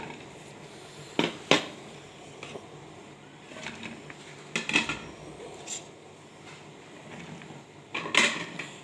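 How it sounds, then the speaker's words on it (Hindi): A spoon clinks and scrapes against a bowl while salt, turmeric and vinegar are mixed together for homemade pickle, giving a few sharp knocks spread between softer stirring scrapes at close range. "अब इन सब चीज़ों को हम इसमें मिक्स कर देंगे बाउल में"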